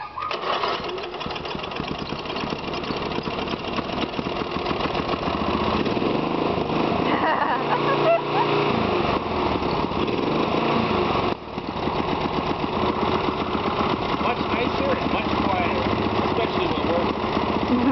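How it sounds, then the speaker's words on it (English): A tractor engine with a new exhaust stack runs steadily and loudly at close range, a continuous rumbling drone with a brief dip partway through. "let's go ahead and see how this new stack sounds compared to the old one"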